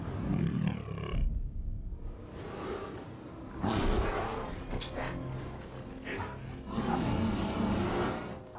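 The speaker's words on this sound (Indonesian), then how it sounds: "Ternyata itu adalah seekor beruang kutub yang besar." A large polar bear roars outside an ice cave in an Arctic survival film, sending deep, rumbling, growling surges in three long swells that build and fade over dramatic film sound.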